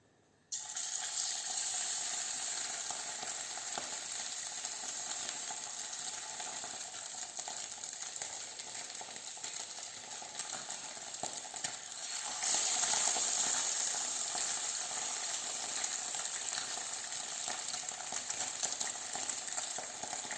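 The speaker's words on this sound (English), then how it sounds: "As soon as the fish hit the hot oil, it will start to curl up." Sea bass fillet sizzling skin-side down in hot oil in a pan, a steady bright frying hiss throughout that swells slightly louder partway, with no talking.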